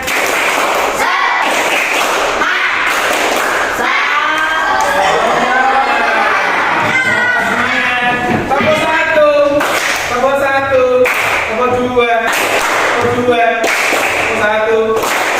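A classroom group repeats a rhythmic spirit clap, bursts of crisp unison claps alternating with loud chanted voices in a steady, patterned beat throughout.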